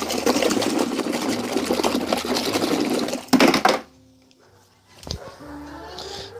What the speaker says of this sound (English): Let me rinse these out.